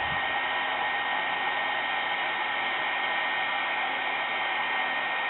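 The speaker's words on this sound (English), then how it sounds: "just walk your heat gun down the cardstock" A heat gun blows steadily over embossing powder on cardstock, a constant close-up rushing whoosh with no breaks.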